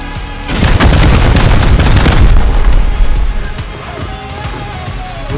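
Rocket explosions in a video game code raid: a loud, close barrage of overlapping booms and blasts that builds and sustains for several seconds, then tails off into quieter crackling debris and rumble.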